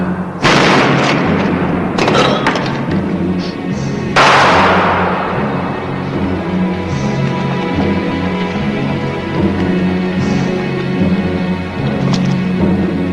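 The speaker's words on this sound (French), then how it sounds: "Mais pourquoi vous tirez en l'air?" Gunshots fired into the air in a French-dubbed western film: three loud, booming reports a couple of seconds apart, each leaving a long echoing tail, followed by a sustained rumbling background.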